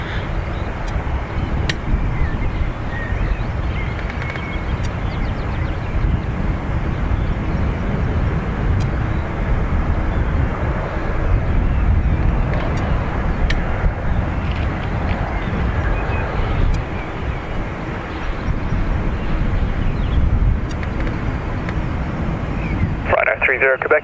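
A Ryanair airliner taking off from runway 28 right at Dublin Airport, a loud, sustained broadband jet roar that holds steady throughout, with wind buffeting the microphone.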